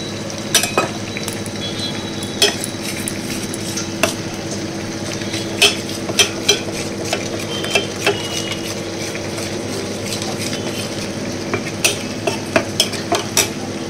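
Rice flour being stirred into water in a bowl, with repeated light clinks and taps of a spoon against the side over a steady low hiss, close and fairly loud.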